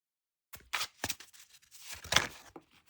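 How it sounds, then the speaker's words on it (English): Soft papery riffling and flicking of Magic: The Gathering oracle cards being shuffled, a few quick bursts close by, fairly quiet after a moment of silence. "So let's do a little shuffle and read from the book."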